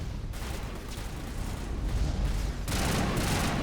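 Gunfire and blasts from a firefight in Mass Effect Legendary Edition, with enemies carrying rockets and a shotgun in play, form a dense, continuous wash of shots and booms that swells toward the end.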